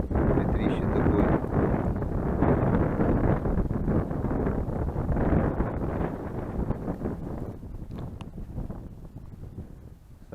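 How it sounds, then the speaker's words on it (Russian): A strong wind roars steadily into the microphone on a frozen lake while ice fishing, a constant heavy rush that eases slightly toward the end. "Ветер поднялся. Аж сносит рыбу со льда."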